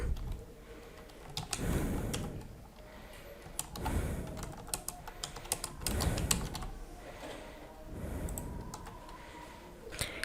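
Typing on a computer keyboard while entering a subscription name during website setup, with clusters of quick key clicks and soft thuds repeating in bursts over steady low background hiss, no voices.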